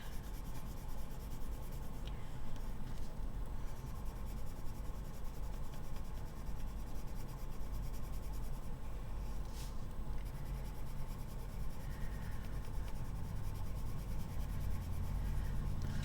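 Steady, soft scratching of a colored pencil moving across paper, continuous and close, over a low background hum.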